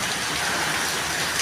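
Heavy rain pours down in a steady, dense roar that fills the air, loud and close, with no voices.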